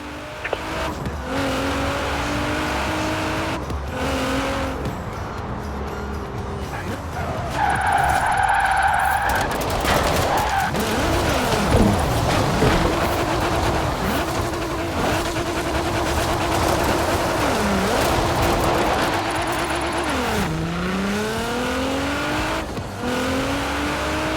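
A car drifting in Forza Horizon 4, with long, loud tyre squeals and skidding over a revving engine whose pitch rises and falls as the car slides through corners, steady and close for the whole stretch.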